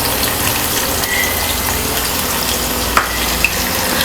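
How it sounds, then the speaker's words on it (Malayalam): Masoor dal fries in hot oil, giving a continuous loud, even sizzle and crackle throughout with a couple of small sharp pops and no voices. "കുറേശ്ശെ എടുത്ത് വറുത്ത് കോരുകയാണ് നല്ലത്."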